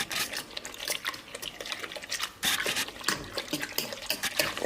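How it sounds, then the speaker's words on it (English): A mixture for homemade charcoal briquettes is stirred in cold water to keep it from lumping, giving a steady, close run of scraping, sloshing swirls with brief louder bursts. "And rather just stir this up in cold water so it doesn't form lumps."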